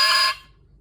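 A bassoon or oboe reed played alone before repair gives a short, clear, bright beep, loud for about a third of a second and then cut off.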